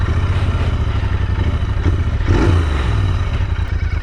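A Royal Enfield Interceptor 650 motorcycle on a test ride gives a steady, close engine rumble with wind rush and a slight swell midway. No voices are heard.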